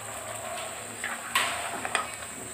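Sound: stirring beef cooking in pot

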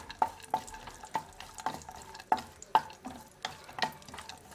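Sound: dry fruits being roasted and stirred in melted ghee

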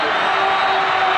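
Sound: crowd ovation at basketball final

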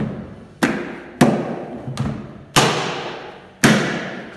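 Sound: Starmix vacuum cleaner part clicking into place

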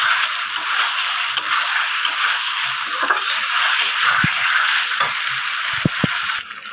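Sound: Kashmiri chili and spices sautéed in pan for doi fish curry

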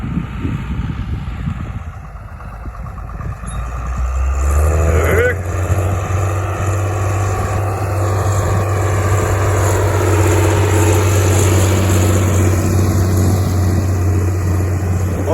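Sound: car engine running, towing a trailer

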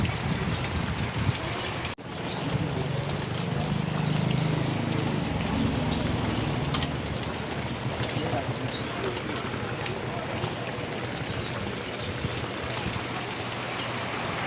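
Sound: heavy rain pouring down on vegetable garden

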